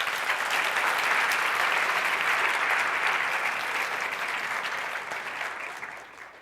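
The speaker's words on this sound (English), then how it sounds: "Can we give Reginald Washington another round of applause?" Audience at a community presentation applauding steadily, a dense wash of clapping that holds loudly for several seconds before fading out at the end.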